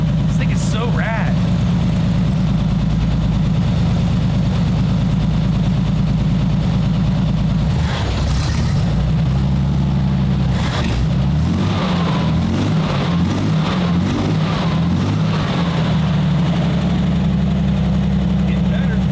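A rocket car's engine idling while it warms up: a loud, steady low rumble that wavers partway through as the throttle shifts, with people talking over it.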